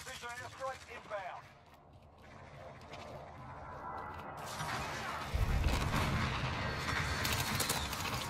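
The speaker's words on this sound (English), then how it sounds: "Be advised, friendly precision airstrike inbound." Heavy explosions from a precision airstrike in Call of Duty Warzone, a loud booming barrage rolling in midway and continuing to the end, with game noise and crackle throughout.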